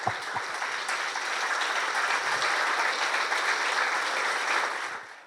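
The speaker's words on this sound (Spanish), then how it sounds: "fuertes aplausos para el padre que nos ha hablado del curita Brochero." Warm, steady applause from a gathered crowd at a church celebration honouring the Santo Cura Brochero, an even wash of many hands clapping that swells slightly then fades at the end.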